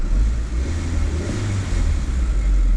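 A Fiat Panda 100hp engine revs up from idle, a steady loud mid-range drone that rises and holds with strong low rumble throughout, no voices over it.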